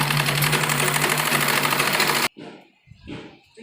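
Sewing machine running a double line of stitching on palazzo pants gives a fast, steady mechanical whir for about two seconds, loud and close, then stops abruptly, leaving faint handling sounds and a brief voice.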